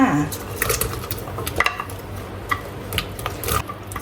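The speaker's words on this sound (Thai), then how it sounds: "ใส่แครอทลงไปก่อนค่ะเพราะว่าแครอทจะ สุก ยากกว่าผักชนิดอื่นนะคะ" Carrots clattering into a metal pot for vegetarian Thai soup, with repeated clinks and knocks of utensil on cookware.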